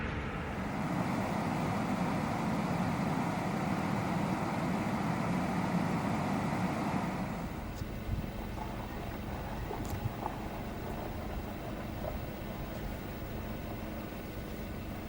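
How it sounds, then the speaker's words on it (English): A car engine idles nearby at a state park lakeside, a steady low rumble with a constant hum that continues throughout, with a faint change in background partway through. "You can hear my car running."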